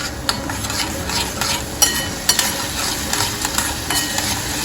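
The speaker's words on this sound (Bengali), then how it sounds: "আর শুধু দইটাকে একটু মিশিয়ে নেব।" Pointed gourd in yogurt gravy is stirred in a hot pan, a steady sizzle of frying under repeated scraping strokes of a spoon, with a few sharper clinks against the pan's side.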